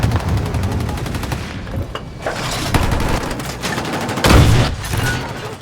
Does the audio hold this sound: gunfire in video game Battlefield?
yes